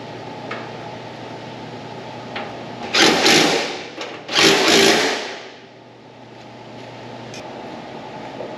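A power tool bolts frame parts back onto a fastback car, with two loud bursts of whirring and impact rattle a few seconds apart over a steady background hum.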